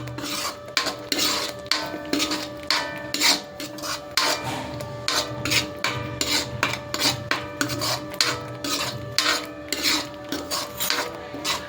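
Spoonfuls of turmeric, coriander-cumin powder, red chilli and garam masala being mixed into masala in a pan for a Gujarati vadi curry, giving a steady rhythmic scraping and rasping of a spoon against metal, close and continuous with no talk.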